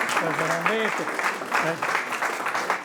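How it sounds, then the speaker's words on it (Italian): An audience applauds for a woman named Sabrina, a brief patter of clapping running beneath someone speaking over it. "Un applauso a Sabrina,"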